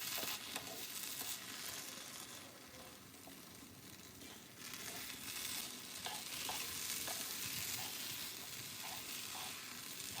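Cooked vermicelli is stirred and mixed in a hot pan, giving a steady, dense sizzle with soft, repeated scraping strokes close by throughout, and no voices.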